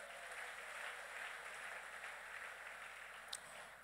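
A church congregation applauds the Lord together, a steady, sustained wash of clapping from many hands filling the hall at even loudness, with one brief sharper clap near the end.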